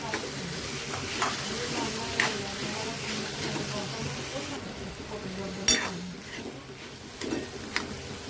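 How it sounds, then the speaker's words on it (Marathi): A spoon stirs moong dal into tomatoes and ridge gourd vegetables frying in a pan, steady sizzling under scattered scraping clicks and clinks, close and continuous with no talk. "आता ह्याच्यात मुंगाची डाळ टाकून घ्यायची मिक्स करून घ्यायचं आहे"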